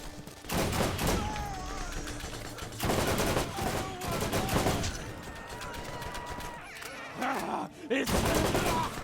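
Bursts of gunfire from the video game Borderlands rattle in repeated volleys, loud and dense, separated by short lulls, with someone talking over parts of the shooting.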